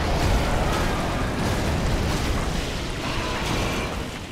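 A loud, continuous fire roar in Dark Souls 3, dense and steady throughout with rumbling low end, no voices over it.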